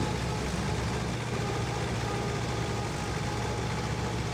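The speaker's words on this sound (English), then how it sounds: "I was already warming up the tractors." A low, steady tractor engine rumble idling continuously on a farm, fairly loud and close, with no talking over it.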